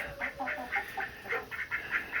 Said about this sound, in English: Let's see, there's one of the Guineas.